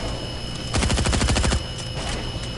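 Video game gunfire: a rapid automatic burst lasting under a second rips out loud over a steady game ambience, then the background hum carries on alone.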